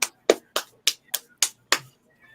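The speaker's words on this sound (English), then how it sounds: "Why are you making clapping noises?" Seven sharp hand claps in a steady, slightly uneven rhythm, close and alone, with a short pause before a faint trailing sound at the end.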